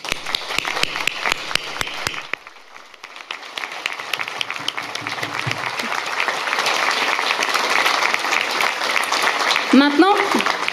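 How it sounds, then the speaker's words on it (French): Crowd applause at a Fêtes de Wallonie speech in Namur, honouring police, firefighters and Red Cross, opening with a few sharp claps, then swelling into sustained clapping with some cheers and brief voices. "Ils méritent tous nos chaleureux applaudissements."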